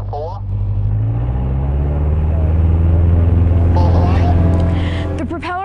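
A Piper Cherokee single-engine propeller plane droning steadily during takeoff from a runway, a loud low engine hum that rises and holds near the microphone, with a radio-style voice speaking over it.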